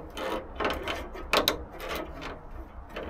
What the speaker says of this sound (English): And this ratchet screwdriver is awful. It's quite literally ratchet.